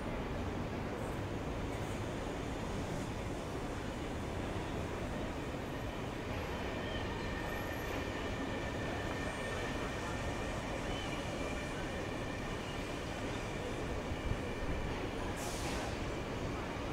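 A Sydney Trains S-set pulls into a platform at Central Station, its continuous loud rolling rumble filling the space, with faint wheel squeal and a thin whine running over the wheel noise.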